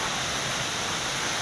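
A waterfall at a campsite pours in a continuous broadband rush of falling water, steady and fairly loud throughout, with no speech.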